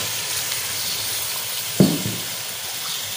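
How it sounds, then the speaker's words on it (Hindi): Beef pieces dropped into hot ghee in a karahi for beef karahi give one sudden sizzling burst about midway, then a steady frying hiss with no talk. "घी गरम हो गया, अभी बीफ डाल देते हैं।"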